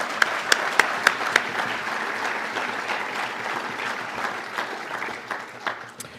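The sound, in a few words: applause for award nominees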